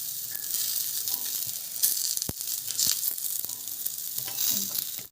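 Bajra flour thalipeeth frying on an oiled tava, a steady close sizzle with scattered sharp crackles and pops, no voices.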